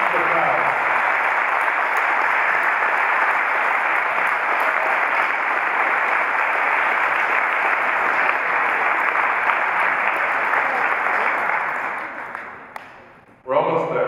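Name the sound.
audience applause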